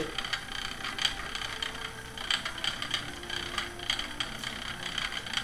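A treadled spinning wheel turns while spinning yarn, giving a steady mechanical whir with regular light clicking and rattling in an even, repeating rhythm, close and moderately quiet.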